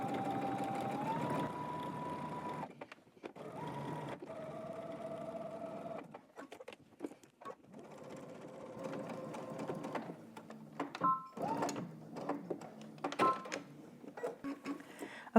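A sewing machine stitches a seam on a garment in several runs of steady, rapid mechanical chatter separated by short pauses, fairly close and moderately loud, with no talking.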